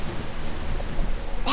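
A group claps softly and steadily with their hands to imitate a rainstorm, making a dense, even patter of many small claps, like rain falling, held at a moderate level throughout.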